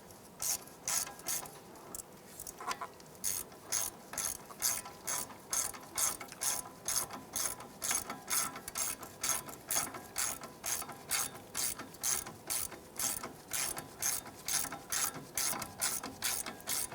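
A hand ratchet tightens the ABS bracket bolt on a 2001-2007 Ford Escape strut assembly, giving a long, steady run of close clicking strokes at an even rhythm.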